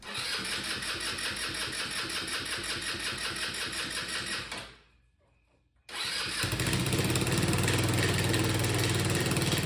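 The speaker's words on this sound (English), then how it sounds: "It looks like I have a running scooter." A 150cc GY6 engine on a 2014 Tao Tao Chinese scooter runs with a rapid buzzing putter, cuts out briefly, then is started again and settles into a loud, steady idle.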